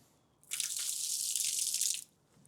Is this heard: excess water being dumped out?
yes